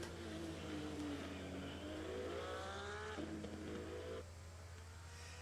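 Race car engine in Assetto Corsa Competizione, during a 24-hour Nürburgring league race. The engine revs up and down steadily and loudly through gear changes, then drops abruptly to a lower hum near the end.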